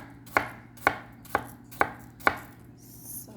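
A knife chops apples on a cutting board for a French apple pie, giving five sharp, evenly spaced thuds close by, followed by a short quiet pause.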